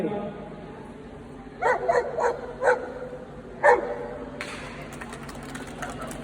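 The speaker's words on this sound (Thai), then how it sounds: "จะเห่าเยอะครับ" A dog barks five times in a quick, uneven series, fairly close and clear, while a person talks quietly in the background.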